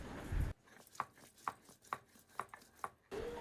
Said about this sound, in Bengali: আর এদিকে আদা রসুন বেটে নেওয়া হচ্ছে